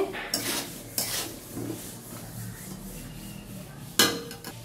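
A lid is set over a pan of frying shrimp and pointed gourd with turmeric and salt, giving several metallic clanks and scrapes, one sharp knock near the end, over a faint sizzle.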